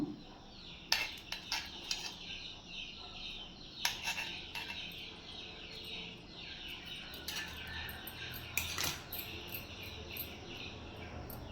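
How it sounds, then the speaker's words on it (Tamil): A knife cuts set agar agar pudding into pieces, producing scattered sharp clicks and taps against the dish over a constant, shrill chorus of crickets and occasional birdsong. "இந்த கத்தியில் கட் பண்ணாலும் நல்லா கரெக்டாக வரும் பாருங்கள் பீஸ் போட்டுக்கலாம்"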